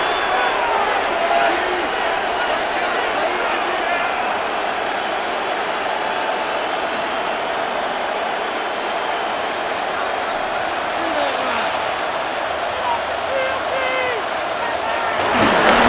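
Stadium crowd in the Madden NFL 26 football video game, a dense continuous roar of cheering that swells slightly at the end, heard under steady play-by-play commentary.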